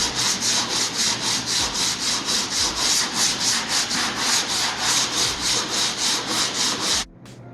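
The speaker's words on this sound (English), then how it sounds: "There's the first layer sanded down." Hand sanding of body filler on a 1988 Honda CRX, a loud, close, steady back-and-forth scraping rhythm of about three strokes per second that stops abruptly just before the end.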